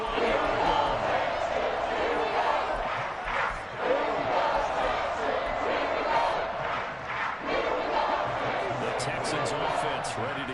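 Dense stadium crowd roar in a PS5 American football video game, Texans versus Patriots, sustaining a loud, continuous cheer with swells and surges throughout, a commentator's voice running underneath.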